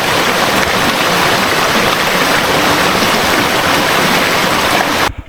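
Water pours steadily at a small roadside waterfall on the Botolan to Capas bypass road, a loud continuous close rushing splash that cuts off abruptly at the very end, with no talk.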